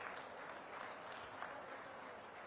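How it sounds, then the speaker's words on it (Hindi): At a political rally, a crowd applauds a politician with a steady wash of clapping at moderate to low volume, sustained for a couple of seconds without any voices on top. "उनका भी जोरदार ताली बजाकर स्वागत करें"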